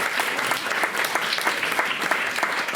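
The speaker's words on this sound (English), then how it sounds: "Give her a huge round of applause." An audience at the Norwich Puppet Theatre claps in dense, continuous applause that stays even and full throughout the short burst.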